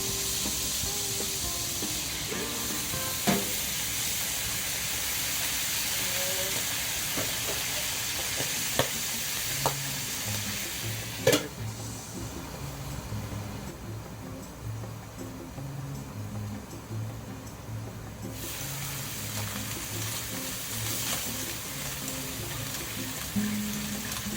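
Garlic fries in a pan for sun-dried tomato clam vongole, giving a steady close sizzle with scattered pops and occasional stirring clinks, ending in a sharp hissing burst midway, then settling back to a continuous frying crackle.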